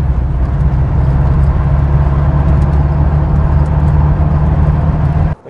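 A 1975 Porsche 912E engine runs with more throttle, a loud, steady low mechanical drone that holds constant for several seconds and then cuts off abruptly.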